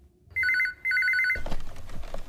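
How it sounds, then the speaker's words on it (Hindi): A telephone rings unanswered in a Hindi-dubbed film scene, sounding two loud, close bell bursts with a short gap between them before the ringing gives way to clattering, shuffling noise. "फोन क्यों नहीं उठा रहा कोई?"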